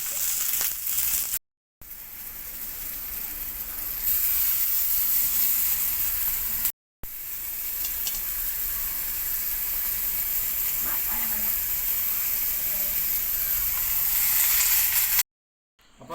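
Fish wrapped in pumpkin leaf fries in coconut oil in a pan, giving a steady, close, loud sizzling hiss that runs throughout, interrupted only by a couple of brief cuts to silence.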